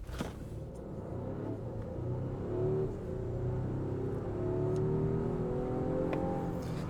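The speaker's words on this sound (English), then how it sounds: "So let's actually do a 0 to 100 test." A Volvo XC60 Recharge Polestar Engineered in Polestar drive mode accelerates hard from 0 to 100, a steady near engine and drivetrain rumble with rising whine building smoothly over about seven seconds, no talking.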